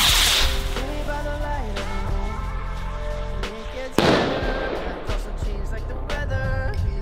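Consumer fireworks bursting and crackling close by, with sharp explosive pops over a continuous hiss and rumble, and a loud bang partway through.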